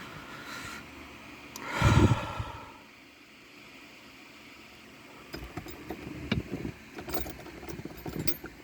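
A car key jangles on its ring while being worked in the ignition of a turbocharged car fitted with bigger injectors, a brief close rattle followed by quieter fumbling clicks and handling noise, no talk.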